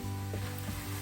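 Food sizzling steadily in a pan as it is stirred with a small spatula-like spoon, a close, continuous frying hiss with a low hum underneath and a brief louder scrape near the end.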